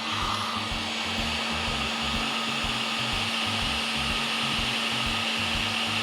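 Hot air gun heating a stuck fuel pump cover on a home-built Dodge, a loud steady blowing whir with a constant motor hum that runs unbroken throughout, no talk.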